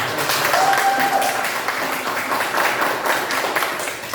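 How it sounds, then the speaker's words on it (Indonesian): A classroom audience breaks into applause, a steady wash of many hands clapping together that holds at an even level for a few seconds before tapering slightly. "Ya, tepuk tangan."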